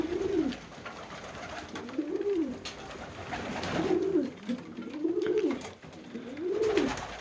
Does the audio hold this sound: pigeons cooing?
yes